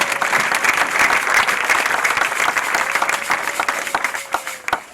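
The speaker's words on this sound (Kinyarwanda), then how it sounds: "amashyi menshi cyane" Loud, enthusiastic applause from a church congregation at an ADEPR worship service, dense rapid clapping that thins and turns more scattered toward the end, with no speech over it.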